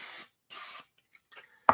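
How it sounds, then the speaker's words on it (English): Pam cooking spray hisses out of a can into a ramekin in two short, close bursts, followed by faint handling clicks and a sharp knock. "you just take each ramekin and you want to spray it with some Pam"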